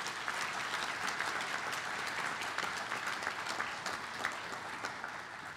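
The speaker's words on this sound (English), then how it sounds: "how about a round of applause?" Steady round of applause from a conference audience after district representatives are introduced, dense even clapping that holds for the whole stretch at a moderate distance.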